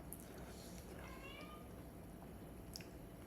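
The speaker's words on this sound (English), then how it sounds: "My cat's meowing." A cat meows somewhere in the room, a couple of short faint calls over steady background hiss.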